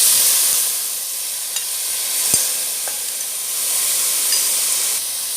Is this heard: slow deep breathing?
no